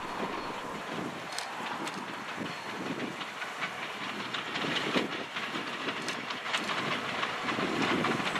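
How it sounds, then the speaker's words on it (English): A train runs along Haydenville Road just north of Haydenville, Ohio, giving a continuous rumble and rattle of rail cars with hissing, heard from trackside at moderate distance with no talk. "we see the train along Haydenville Road, just north of Haydenville, Ohio"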